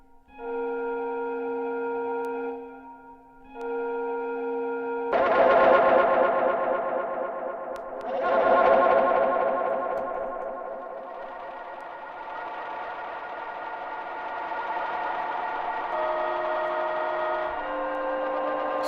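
FRMS granular synthesizer blends two sample sounds, a steady tonal drone giving way to dense grainy swells that shift and settle into a sustained textured tone, fairly loud and alone.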